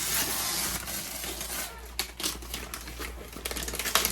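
Gift wrapping paper tears and crinkles as it is pulled off a Risk board game box, in a steady close rustling with sharper rips toward the end.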